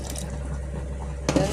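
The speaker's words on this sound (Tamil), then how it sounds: "இப்போ நம்ம தண்ணி ஊற்றிக்கலாம்." Water is poured into a pot of sambar with a soft, steady liquid wash. A brief clatter of cookware follows near the end, close and fairly quiet.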